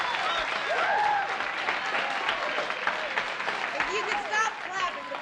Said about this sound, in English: you could stop clapping, because I plan to sing more than one